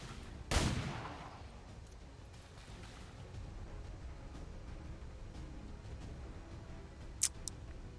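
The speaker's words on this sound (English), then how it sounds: "I'm going to pistol fire this zombie" One sharp pistol shot is fired at a zombie in XCOM 2, a loud crack with a short rumbling tail. Low in-game ambience follows, and a small blip of interface sound comes near the end.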